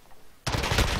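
M4 rifle firing in Call of Duty: Modern Warfare, set up as a close-range submachine-gun-style weapon: a second of quiet, then a sudden loud, sustained burst of rapid automatic fire up close.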